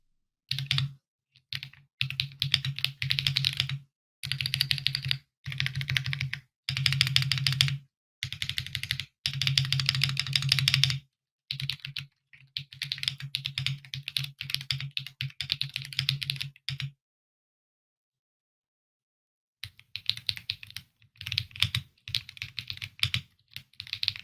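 Typing on a Monsgeek M1 mechanical keyboard with a force break mod, in bursts of rapid, clacky keystrokes separated by short pauses, with a longer silent gap near the end before typing resumes.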